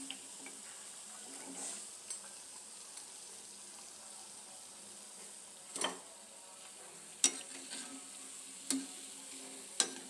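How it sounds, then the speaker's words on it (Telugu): Black-eyed pea vadas (alasanda vada) deep-frying in hot oil, a steady soft sizzle with occasional louder crackles and bursts near the end, no talking. "ఇవి గోల్డెన్ బ్రౌన్ కలర్ వచ్చేలాగా వేయించుకుందాం"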